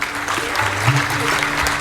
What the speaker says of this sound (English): A huge round of applause for Aditi.